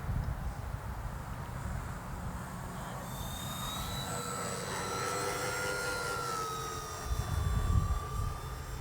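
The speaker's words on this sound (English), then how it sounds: "Just such a joyful plane to fly." E-flite EC-1500 twin RC plane flying overhead, its electric motors whining in a long steady tone that rises and falls as it passes, with outdoor wind rumble underneath.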